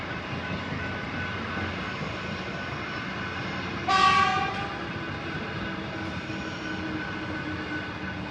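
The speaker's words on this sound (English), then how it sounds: "another train came just a few minutes later" A steady low rumble of a train passing a station inside Fawkner cemetery in Melbourne, with a brief horn blast partway through, rolling on continuously at moderate distance.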